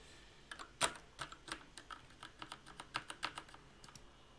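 Typing on a new computer keyboard, a run of crisp, uneven key clicks with one louder tap near the start, close and clear with no talking.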